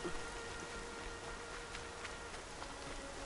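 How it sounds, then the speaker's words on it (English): Steady rain in the video game Horizon Zero Dawn, a dense, even hiss of falling drops heard alone with no talk, holding constant throughout. "I really love rain in games."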